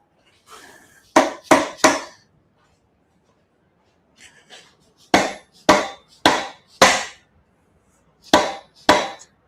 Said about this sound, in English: Tap it all the way forward.